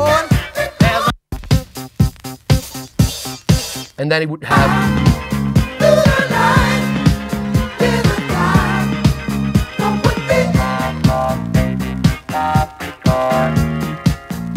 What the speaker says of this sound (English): This electronic sounding disco at the time would sound something like this.